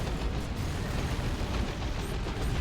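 Artillery fire in the real-time strategy video game Dawn of War II: Retribution, during a 2v2 match, lands as dense, loud blasts and rumbling impacts that run together in a continuous barrage.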